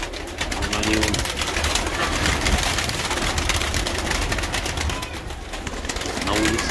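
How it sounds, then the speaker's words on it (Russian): A crowd of pigeons coos nearby, their low, throaty calls rising clearly near the start and end over a dense, continuous outdoor wash of sound. "Голубей много. Они вон."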